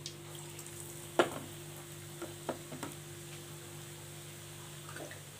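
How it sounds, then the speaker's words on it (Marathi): Papad bhaji fritters deep-fry in oil over a medium flame, a faint low bubbling sizzle with a few soft clicks and taps scattered through, no one speaking. "आता याला छान क्रिस्पी होतं तोपर्यंत मस्त इथे तळून घ्यायचे आहेत."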